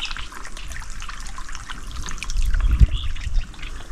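Water pouring steadily and strongly from a water pump outlet, a continuous close trickling rush that swells a little louder near the end, with no talk over it.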